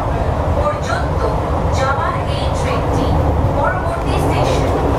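An air-conditioned Bangaon–Sealda local train in West Bengal runs with a steady, loud rumble and hum throughout, approaching the Madhyamgram stop, with voices talking faintly over the continuous rail noise.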